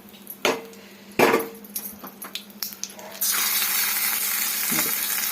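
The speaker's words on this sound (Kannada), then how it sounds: "ಇವಾಗ ಚಟ್ನಿಗೆ ಒಗ್ಗರಣೆ ಮಾಡ್ಕೊಳ್ಳೋಣ" A tempering of urad dal, curry leaves, dry chillies and asafoetida in hot oil is poured into tomato chutney; a few clinks and taps give way to a sudden loud, sustained sizzle that fills the rest.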